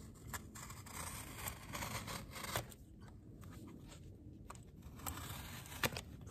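Grille material being trimmed around a truck emblem on a 1991 Chevy OBS Cheyenne, faint close snipping, rubbing and scraping of the material with soft crinkles and a brief sharper click near the end.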